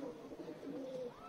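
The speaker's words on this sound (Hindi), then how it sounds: "ये भाई गुलाबी डोरों के सफेद कबूतर है" Madrasi pigeons, white birds with pink eye-rings, coo steadily and closely in a low, continuous murmur, several overlapping coos with no talking.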